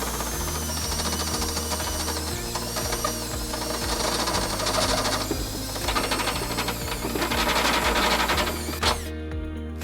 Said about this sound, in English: Using the step-it, we're just going to go nice and slow to enlarge that hole.